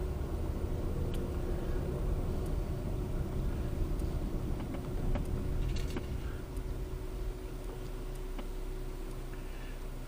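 Steady engine rumble and road noise from a car driving along a road in a sparsely populated area, heard from inside the cabin, with faint ticking and small clicks scattered over a constant low hum and no voices.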